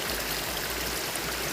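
Water streams and trickles steadily over stones along a Himalayan village path in Himachal, a continuous close rushing wash with no voices.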